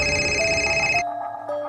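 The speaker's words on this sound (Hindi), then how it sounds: "परेशानी वाली हालत में अपने दोस्त ऋषि को फोन करने लगा।" A telephone rings in a Hindi radio story, a loud electronic ringtone with bright repeating tones that cut off abruptly after about a second, followed by a quieter tone.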